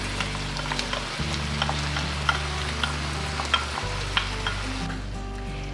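Beef steak frying in a pan with tomato purée and onions, a loud steady sizzle with occasional stirring clinks, close up and without talk.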